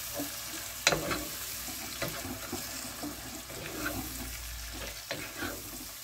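Mushrooms frying in a pan while fish fillet stroganoff is cooked, a soft continuous sizzle with occasional stirring scrapes and clicks, close and steady.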